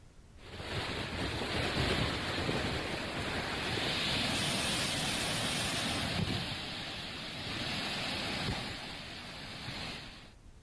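Godavari River floodwater roars through seventeen open reservoir gates, a steady broad rush of churning water that stays loud and unbroken throughout, with no voices.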